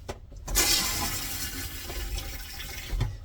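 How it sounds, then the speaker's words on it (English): A toilet flushes in a cottage bathroom, water rushing loudly into the bowl for a few seconds and then swirling down, with no voices. "You're done, you flush."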